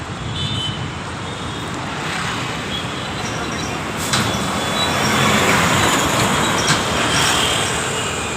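A metro train arrives at a station, a continuous loud rumble of wheels on rail that swells midway, with faint squeals and a voice heard over it.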